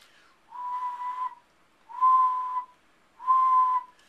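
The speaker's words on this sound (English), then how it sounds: "There is a rat vocalization in the 50 kilohertz range that occurs during aggression" Rat aggression call in the 50 kHz range, played as three steady pure tones, each roughly a second long with short gaps between, clean and isolated.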